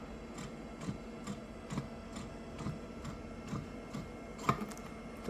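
A Yosi cigarette vendo machine dispensing coins from its changer, a quiet series of regular mechanical ticks and clunks repeating about twice a second, ending with a sharper metallic clink.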